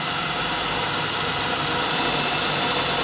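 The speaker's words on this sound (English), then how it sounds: "try to line this up straight and drill it" A steady, high-pitched whirring drone of a power drill boring a hole in a fiberglass pole runs continuously for a few seconds, loud and close, with no talking.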